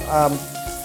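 Food frying in a pan until soft while preparing a spinach cauliflower soup, a steady close sizzle throughout with a brief louder burst near the start.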